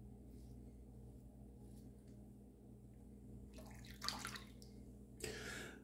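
Tap water runs steadily for a final rinse after a wet shave, a low continuous rush with two louder splashing bursts near the end as the face is rinsed.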